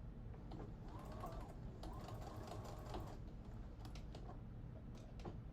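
A sewing machine runs steadily over bias tape on a little girl's dress made from a man's shirt, a faint continuous mechanical whir with soft rapid ticking, no talking.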